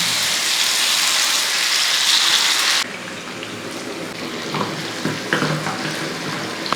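Chicken pieces for kadai chicken fry in hot coconut oil with a loud, dense sizzle that drops to a quieter, crackling hiss partway through, broken by a few faint clinks.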